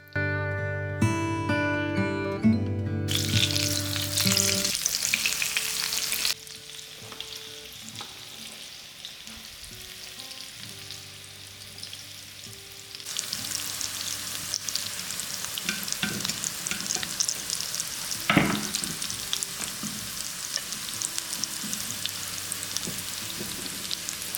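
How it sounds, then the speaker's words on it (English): A pan of vegetables sizzles steadily with occasional stirring clatter, after a brief burst of music at the start. "So I'm gonna continue frying the vegetables first, then I go with the chicken."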